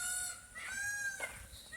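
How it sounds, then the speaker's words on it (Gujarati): A peacock calls at a Shamaliya Mahadev temple in central Gir forest, a few bright, honking cries standing out against quiet outdoor ambience with no talking. "મોરલાનો કેવો ટહુકાર અને કેવો ખૂબ સરસ મજાનો અવાજ આવી રહ્યો છે"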